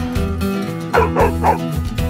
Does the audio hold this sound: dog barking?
yes